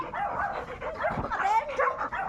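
A golden retriever rescued from a landslide in Cavite gives close, high-pitched yips and whimpering cries, continuous and strained, with voices faintly in the background.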